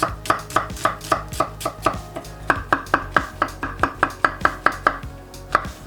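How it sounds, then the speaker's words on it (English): An onion being chopped with a knife on a cutting board, a rapid, even series of about twenty crisp knocks, close and loud with no speech. "Now let me start with the onion first here."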